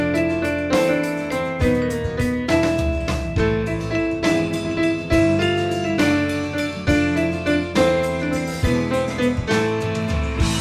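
Solo piano plays a brisk Mary Poppins tune at full tempo, a dense run of bright chords and melody notes with no pause, loud and close, no voices.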